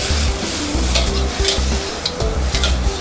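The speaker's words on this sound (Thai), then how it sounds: "ผัดกะเพราที่สำคัญเราจะใช้ไฟแรงนะคะ" Pad kaprao with shrimp, squid and holy basil is stir-fried over high heat, with a loud constant sizzle broken by rhythmic scraping strokes of a spatula in a pan, several per second, close and unaccompanied.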